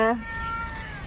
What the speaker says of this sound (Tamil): ஏய் பூனைக்குட்டி ஏய் கிட்ட வராத